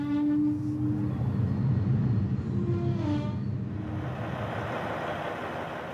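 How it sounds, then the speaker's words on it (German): A train pulls into a station on the Aspangbahn railway in Austria with a steady low rumble and tonal squeals from the wheels and brakes, loud at first and then easing off as it slows, with no voices. "Christian Fröch nimmt den Zug in Empfang"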